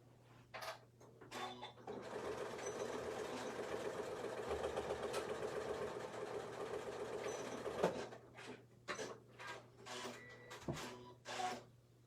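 A sewing machine stitches straight across the box corner of a small beginner tote bag, a steady mechanical whirring run of about six seconds. A low constant hum sits underneath, with scattered clicks and handling noises before and after.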